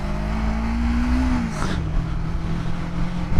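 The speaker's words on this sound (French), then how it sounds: "je vous laisse en compagnie du son moteur sur les 2 prochaines minutes." A car engine drones steadily from inside while driving, a low, continuous hum whose pitch dips slightly partway through, with a faint whoosh of passing air and no talk.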